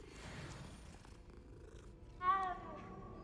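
Soft, low purring of a cat in the video game Hogwarts Legacy, quiet and close, with a short louder burst of game sound partway through.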